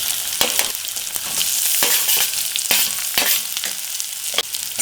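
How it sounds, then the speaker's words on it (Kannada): A medium-size chopped onion fries in a pan with dried red chillies for millet khichdi, giving a steady loud sizzle broken by regular scraping stirs, with no voices. "ಒಂದು ಮೀಡಿಯಂ ಸೈಜ್ ಈರುಳ್ಳಿ ಕಟ್ ಮಾಡಿಬಿಟ್ಟು ಹಾಕ್ತಾ ಇದ್ದೀನಿ."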